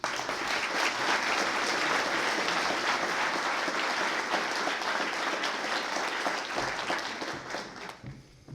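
Sustained applause from a conference audience welcoming a speaker to the podium, dense and steady for most of the stretch before thinning out near the end.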